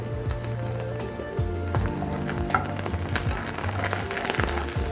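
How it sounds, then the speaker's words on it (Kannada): Loud, continuous crackling sizzle of garlic and chillies frying in hot oil, with occasional clinks and scrapes of a utensil. "ಬೆಳ್ಳುಳ್ಳಿ ಸ್ವಲ್ಪ ಲೈಟ್ ಬ್ರೌನ್ ಕಲರ್ ಬರೋಂಗೆ ಸ್ವಲ್ಪ ಇದನ್ನು ಫ್ರೈ ಮಾಡಬೇಕು"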